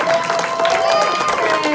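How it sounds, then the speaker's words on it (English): An audience at a horror film festival claps and cheers in a dense, continuous burst of applause, close and loud, with voices mixed in. "So please give her a big round of applause."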